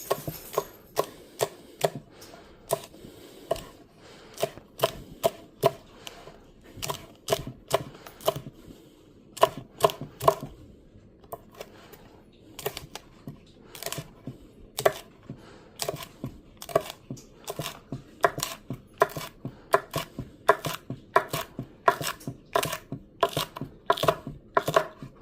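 Green onions being chopped with a knife on a cutting board for a cubillon, a long run of crisp, close, rapid knocks in uneven bursts with brief pauses.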